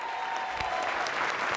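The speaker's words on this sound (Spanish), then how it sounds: "reciban con un fuerte aplauso a Francisco Barrios" A rock lab audience applauds to welcome Francisco Barrios "el Mastuerzo" onstage, a sustained, even roar of many hands clapping heard from across the venue, with a few sharper claps standing out.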